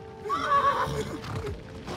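A horse whinnies loudly in Trek to Yomi, a rising and falling neigh at close range followed by softer snorting and a few hoof sounds.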